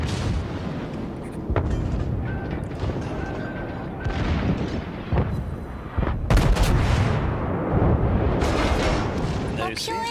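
Naval guns of the ARP Kirishima battleship firing in World of Warships, heavy booming salvos and rumbling impacts layered over game noise, with someone talking throughout.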